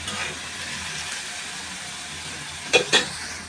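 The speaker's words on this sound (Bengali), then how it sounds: "এইগুলো একটু ভেজে নেব।" Vegetables for noodles, including carrot and potato, sizzle steadily in a hot pan on a high flame, with two quick metallic clinks near the end as they are stirred.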